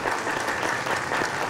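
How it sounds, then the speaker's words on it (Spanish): A school inauguration crowd applauds steadily, a dense, even clapping that fills the whole stretch without pause. "Un fuerte aplauso para ustedes."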